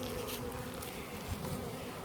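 Honey bees hum steadily at an open hive, a dense, continuous buzz of many insects up close, with no talk over it.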